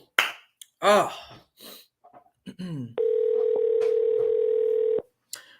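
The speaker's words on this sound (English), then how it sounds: "looks like they're not going to pick up the phone" An outgoing phone call rings unanswered: one steady electronic ringback tone holds for about two seconds and then stops, following brief bits of talk and a few clicks.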